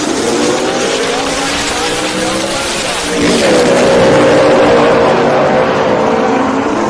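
Two drag racing cars, including a 1963 Nova, launch off the starting line with a loud, sustained engine roar that rises in pitch and intensity midway, close and alone without speech.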